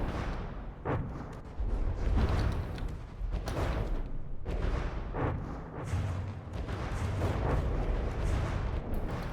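Missile impacts on ships in a naval combat video game, a run of heavy booming explosions and rumbling blasts, fairly loud and dense, overlapping with no gaps between them.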